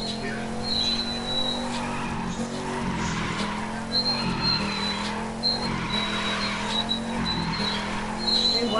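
A car in the racing video game The Crew 2 drives with a steady engine hum while its tires squeal and skid repeatedly, moderately loud with a constant drone underneath.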